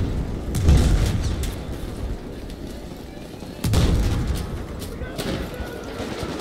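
Explosions during a hardcore Rush match on Siege of Shanghai in Battlefield 4, two heavy booming blasts a few seconds apart amid ongoing battle noise and a voice talking.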